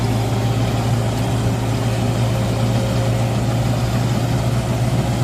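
A Mahindra Novo 655 DI tractor engine runs steadily in fifth gear at about 1500 rpm, a continuous low diesel drone with a strong hum, close and unbroken, with no talk.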